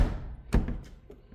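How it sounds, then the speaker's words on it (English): A car door on a restored 1964 VW Beetle shuts with a solid, close thunk, followed by a softer second knock. "Listen to these doors."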